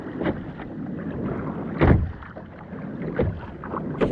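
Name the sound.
kayak paddling out on the sea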